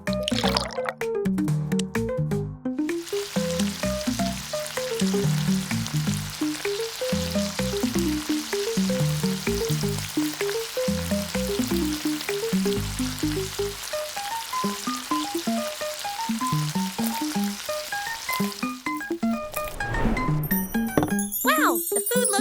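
Food frying in oil for a mini chicken recipe, with a steady sizzling crackle running throughout alongside a cute jingly music melody, briefly louder near the end.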